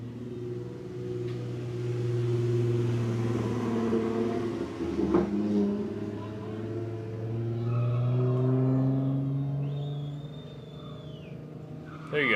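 A drifting car in Mexico spinning out, its engine revving hard and rising and falling in pitch, with a steady engine drone and a brief tyre squeal near the end.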